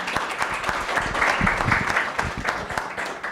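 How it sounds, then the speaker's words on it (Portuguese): An audience at a university lecture applauds the support team, a dense, steady clapping that holds at even volume for the whole stretch with no voices over it. "um aplauso à equipe de apoio"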